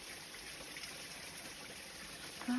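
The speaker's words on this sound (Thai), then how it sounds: "มีน้ำตกหน่อยๆได้น้ำตกที่นี่" A small waterfall trickles in a forest, a soft continuous wash of flowing water at a distance, with a brief tonal blip near the end.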